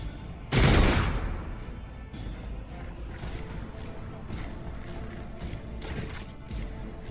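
A loud burst of gunfire from the Warhammer 40K: Rogue Trader video game, one heavy blast followed by a softer shot later, over steady low game ambience.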